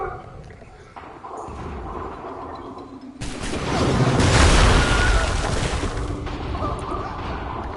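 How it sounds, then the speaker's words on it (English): Artillery explosions in the Assassin's Creed III video game, a sudden loud broadband boom that swells into a long rumbling roar and slowly tapers off over a busy battle din. "Artillery!"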